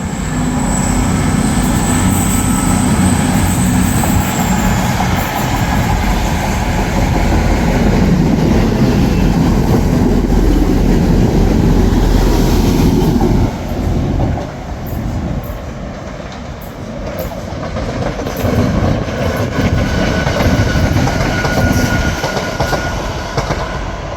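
A Voyager train passes Ardwick Station in Manchester, its loud, steady roar and rolling wheel rumble filling the whole stretch, with a brief high whine early on and a slight dip in the noise partway through.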